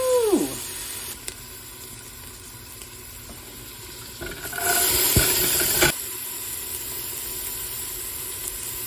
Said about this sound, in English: We love to hear that sizzle.